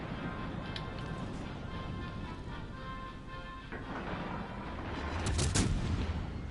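A battleship's main guns fire a broadside in a naval warfare video game; a steady low rumble of battle builds into a loud, booming volley near the end.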